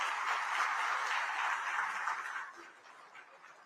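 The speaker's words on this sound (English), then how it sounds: "Can we have a round of applause, please?" Audience applause at the Pravasi Bharatiya event, a steady wash of clapping from a hall full of people that fades lower toward the end.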